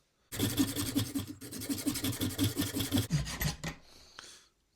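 A 3D-printed plastic part for a scale RC 6x6 truck being trimmed by hand, heard as a steady rhythmic rasping like filing, stroke after stroke at close range, breaking into a few quicker scrapes before stopping, with no talk.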